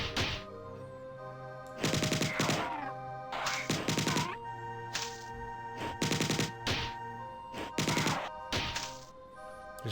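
The Enforcer weapon firing in Bungie's 1994 shooter game Marathon, several loud blasts in short clusters over a constant droning game-music background.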